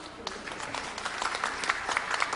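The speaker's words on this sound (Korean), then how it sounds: "다시 한번 큰 박수 보내주십시오" An audience applauds at a forum after a technology teacher's presentation, a steady, dense patter of many hands clapping at moderate distance with no speech over it.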